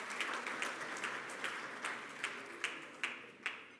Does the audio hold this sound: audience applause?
yes